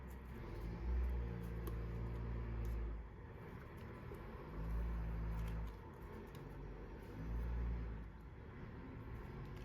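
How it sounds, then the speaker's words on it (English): A truck rumbles past outside in repeated low swelling passes, a deep engine drone rising and fading three times at a moderate distance, with no talking. "Sorry about the truck."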